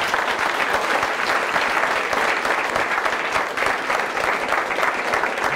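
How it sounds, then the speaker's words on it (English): Sustained, dense applause from an audience at a tech talk for presenter Gannon Hall, steady and fairly loud throughout with no voices over it. "Let's just give a big round of applause to Gannon."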